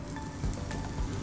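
Onion and bell pepper sizzle steadily in hot oil as they are stir-fried in a pan, a close, continuous crackle with a couple of soft stirring thumps and no talk.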